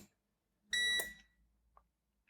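A rack-mount Gembird Energenie line-interactive UPS, repaired after exploding, gives one loud, piercing electronic beep just after booting up, with a faint click trailing after in an otherwise quiet room.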